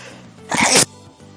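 A single loud, sharp sneeze bursts out close to the microphone, brief and explosive, set against a quiet room.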